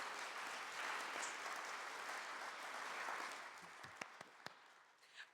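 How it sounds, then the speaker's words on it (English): Audience applause at a Nowruz gathering at New Zealand Parliament, a steady wash of many hands clapping that fades toward the end, leaving a few scattered claps. "So let's give those kids another round of applause."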